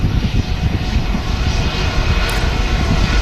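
Airbus A320 airliner taxiing at Manchester Airport, a loud, steady engine roar and broadband whoosh heard close and uninterrupted for a few seconds.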